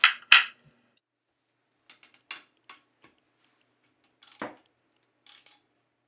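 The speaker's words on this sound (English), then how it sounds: "Remove the nuts with a wrench" Nuts on an old toilet's tank bolts being loosened with a wrench: a few sharp metallic clinks and clicks in scattered short bursts, close, separated by near silence.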